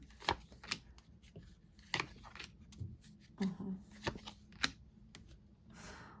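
Stiff cards being shuffled and snapped, a series of sharp flicks and rustles up close, with a brief spoken word partway through.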